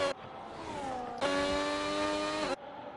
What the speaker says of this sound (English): that Ford engine sounds amazing